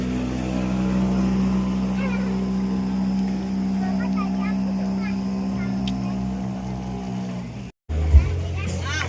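Steady droning engine of a small pump boat motor running close by, constant low hum throughout, briefly cutting out near the end before resuming.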